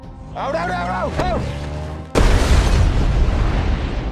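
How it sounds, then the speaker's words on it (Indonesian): In an action film, a car bomb goes off with a sudden, loud boom and a sustained roar. Before it, a voice and music are heard. "ada satu motor datang lalu menyimpan bom di atas mobil mereka hingga terjadilah ledakan"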